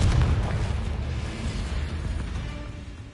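Booming magical spell blasts in Hogwarts Legacy, a heavy explosive burst at the start trailing into a rumbling decay, loud and without talk.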